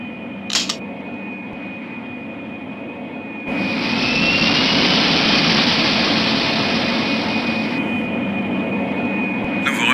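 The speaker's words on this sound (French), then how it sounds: "Nous sommes prêts à décoller." Airliner jet engines in the Pink Panther game spool up to a loud steady roar partway through, after a quieter cabin hum with a brief click and a thin whine running throughout.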